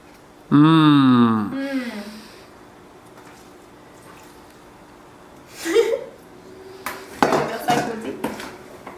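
A French vinaigrette being stirred in a bowl, heard as a few sharp utensil clinks and scrapes near the end after a long quiet stretch, preceded by a brief tonal vocal sound.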